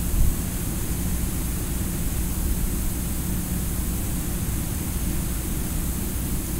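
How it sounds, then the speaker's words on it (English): Steady pink noise test signal plays from a Denon DN-790R cassette tape deck, an even, unbroken hiss that stays loud and constant throughout with no other sounds. "what I'm listening for is the high end of this pink noise"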